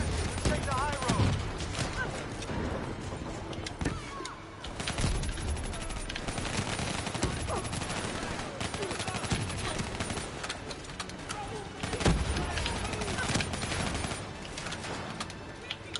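Gunfire from a weapon in the video game Call of Duty Black Ops 3 crackles in dense bursts throughout, loud and busy under game noise and talk.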